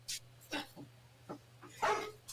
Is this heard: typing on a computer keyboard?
no